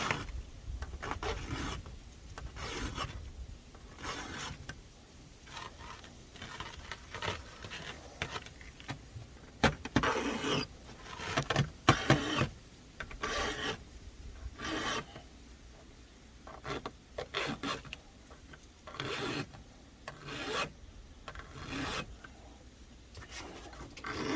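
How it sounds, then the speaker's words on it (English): A file sharpens a chainsaw chain in repeated short rasping strokes, a regular scraping rhythm of bursts and pauses, close and fairly loud with no talking. "Maybe I'll get one chain sharpening done per warm-up session."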